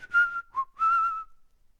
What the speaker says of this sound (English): And he just sort of whistles.